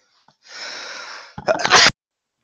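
One close, loud sneeze: a long rising inhale, then a sharp, explosive burst that stops abruptly.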